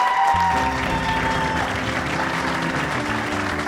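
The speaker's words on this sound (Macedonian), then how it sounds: "Јас, аплауз за мене." An audience breaks into applause in a talk-show studio: a steady wash of clapping that holds at full strength throughout, with low tonal music underneath.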